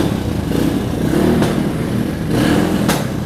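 A KTM RXF 125 motorcycle that has sat unused, kick-started and misfiring: a loud, continuous rough engine drone with two sharp popping bangs near the middle and end.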